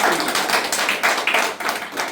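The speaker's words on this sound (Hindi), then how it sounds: "उसकी महिमा करें, तालियां बजाएं" Close, loud clapping at a Sunday prayer meeting in Indore, in an uneven rhythm, several hands striking in quick succession with a short lull near the middle.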